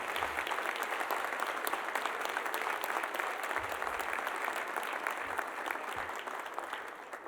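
Audience at a tenth-anniversary spring breakfast gives a standing round of applause, steady, dense clapping filling the room at even loudness before easing off slightly at the end.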